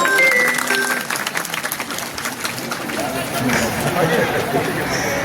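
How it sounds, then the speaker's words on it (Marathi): Applause from a crowd at a temple fair gathering in Mohanpura, Nanded, with clapping mixed into busy crowd chatter and a voice speaking over it, fairly loud throughout. "सर्वांनी त्यांच्यासाठी टाळ्या वाजवाव्या"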